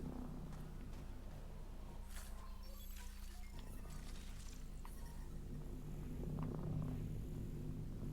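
Alien cats purr in Mass Effect: Andromeda, a low continuous rumbling drone with a throaty, growling texture, steady and fairly faint, with occasional soft clicks and no voices.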